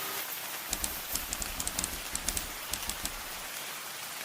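Steady rain falls and patters on a surface, with scattered sharper drops ticking through the constant hiss, even and moderately close, with no voices.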